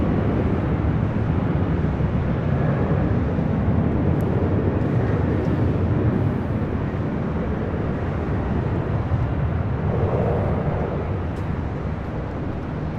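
A jet airliner comes in fast to land on runway 25 left at Los Angeles International Airport, producing a loud, continuous broadband engine roar that holds steady throughout with no break.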